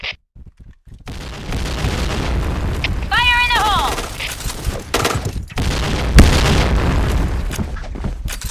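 Game-world explosions and gunfire in the shooter Point Blank, with booms and bursts running through most of the clip while players talk over the action.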